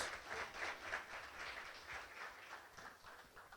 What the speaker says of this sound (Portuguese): Dá a salva de palmas ao Senhor